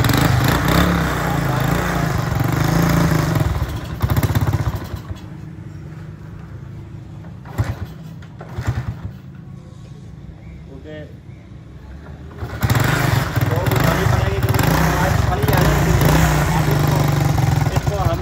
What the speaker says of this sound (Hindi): तो आप इस बाइक को हमने स्टार्ट करना है